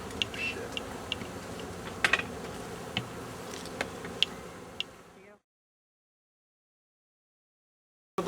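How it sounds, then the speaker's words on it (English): A swarm of thousands of honey bees hums close by in a backyard in Vancouver, a steady buzz with sharp clicks and handling noises, then it cuts off into silence. "this fucking ball of thousands of bees right in front of my face"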